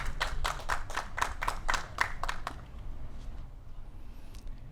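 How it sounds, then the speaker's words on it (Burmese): Audience applause at a Power Battle sepak takraw TV show event, a burst of rhythmic claps in the first half that breaks off around mid-clip, leaving quiet room tone. "လက်ခုပ်ဩဘာလေးများလည်းချင်းမြင့်ပေးပါဦး"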